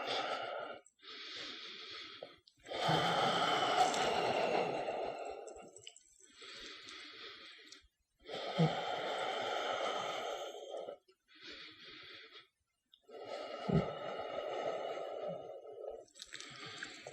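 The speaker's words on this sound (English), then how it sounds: "take 5 deep and meaningful breaths here." Slow deep breathing during a yoga flow, long audible inhales and exhales in a steady rhythm, close and fairly soft, repeated about five times with quiet gaps between breaths.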